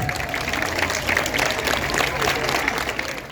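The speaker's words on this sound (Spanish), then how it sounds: "Aplaudan a todos los nenos." An audience applauds children at a youth running event, a dense wash of clapping from a crowd, with a voice talking over it.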